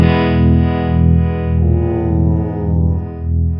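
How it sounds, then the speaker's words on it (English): Electric guitar through the Neural DSP John Mayer plugin with tremolo and spring reverb, sustained chords pulsing in slow, even waves of volume with a washy tail, loud and alone. "is a tremolo and a spring reverb"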